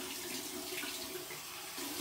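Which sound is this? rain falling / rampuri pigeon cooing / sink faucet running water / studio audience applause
sink faucet running water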